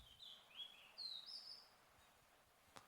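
Birds chirping and singing in the morning, faint high calls drifting in and out over a quiet outdoor hush, with one short sharp tick near the end.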